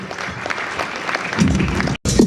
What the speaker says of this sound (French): N'hésitez pas à applaudir les personnalités qui viennent.